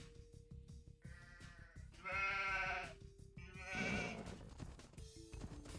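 Sheep bleat in Age of Empires 2, with several short, repeated calls over a quiet, steady background. Two louder bleats stand out in the middle of the sequence.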